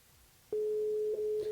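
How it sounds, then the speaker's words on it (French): A telephone tone sounds on the line during a live radio call-in broadcast, a single steady electronic tone sustained for about a second, clear and alone without talk over it. "Ah oui, effectivement, ça sonne."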